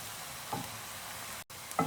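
Onions frying in oil toward a dark golden colour for matar pulao: a quiet continuous sizzle with a couple of brief stirring scrapes.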